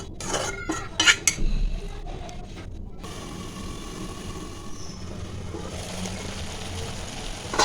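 Potatoes in a pan are stirred after a little water goes in, with a few sharp spoon-on-pan clinks at first, then a low steady simmering hiss.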